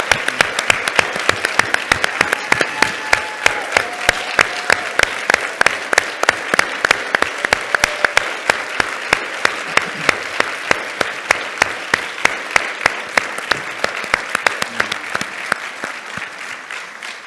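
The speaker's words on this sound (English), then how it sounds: "Let's give just a giant round of applause for having that" Sustained audience applause in a hall after a talk on financial literacy in education, dense continuous clapping from many hands at steady volume with faint voices beneath.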